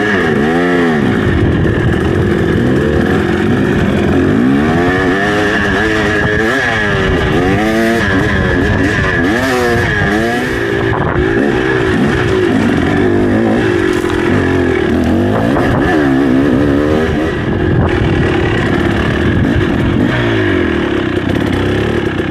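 Beta 300RR and KTM 300XC off-road motorcycles rev and ride close by, their engines loud and continuous with repeated rising and falling pitch sweeps as the throttle opens and closes, along with some clatter.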